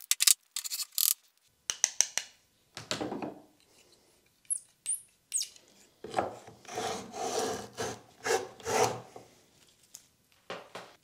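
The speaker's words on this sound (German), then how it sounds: "Ihr seht jetzt hier eine etwas modifizierte Dozuki" A modified Dozuki pull saw cuts through wood, giving bursts of dry rasping strokes in a close, uneven rhythm, with a few short pauses and sharp knocks between the runs of strokes.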